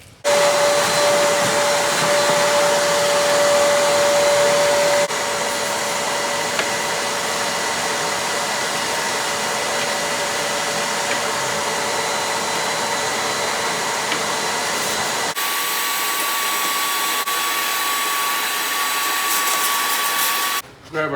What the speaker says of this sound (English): We wanna vacuum all this up